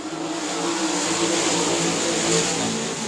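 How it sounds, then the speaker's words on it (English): A pack of race cars roars away at a green-flag start at South Texas Speedway for a 25-lap race. Loud, continuous engine noise swells slightly as the field accelerates, with no talking. "We are going to go green flag racing for 25 laps."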